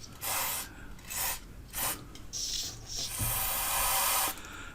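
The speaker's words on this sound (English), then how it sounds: "I'll just spray the bearing areas." Several short bursts of Servisol aerosol lubricant spray hiss onto the bearing areas of an Ekco A355 radio, close by, separated by brief pauses, ending with a longer sustained spray.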